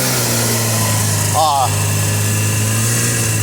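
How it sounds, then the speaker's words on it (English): A 1949 Gibson Model SD tractor with a rebuilt magneto and carburetor running, a steady close engine hum throughout with a short warbling tone near the middle, and someone speaking over it. "is my wife's grandpa's 49 Gibson Model SD. There she goes."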